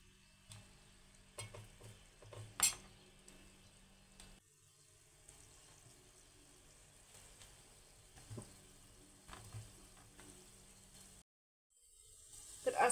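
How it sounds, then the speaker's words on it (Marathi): Black gulab jamun (kala jamun) fry in oil over a low flame, giving a faint, soft sizzle with occasional clinks and scrapes of a utensil, briefly cut to near silence before a louder burst at the end. "असंच आपल्याला मंद आचेवरती याचा कलर डार्क होईपर्यंत इथे आपण याला तळून घेणार आहोत"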